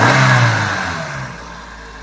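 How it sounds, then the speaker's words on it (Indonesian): A used car engine revs loud and close, then settles into a steady lower drone over about two seconds, with no other sounds. "Dari suaranya udah kelihatan ya mesinnya gimana gitu. Starter juga kelihatan."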